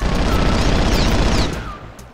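Turret gunfire in the Fugitive Hunter video game, a loud, dense burst of rapid automatic shots hammering for about a second and a half before tapering off.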